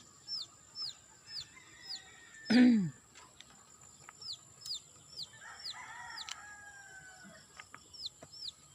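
A small chick peeps over and over in short, bright chirps at a steady pace, with one louder, harsher squawk partway through and quieter rustling around it.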